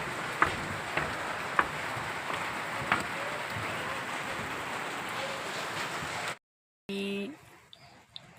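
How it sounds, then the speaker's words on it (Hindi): Steady rain falls outdoors near a temple, a dense continuous patter with a few sharper drop hits, fairly loud and unbroken for about six seconds before cutting out; a brief stretch of quieter background sound follows. "बारिश बारिश बारिश।"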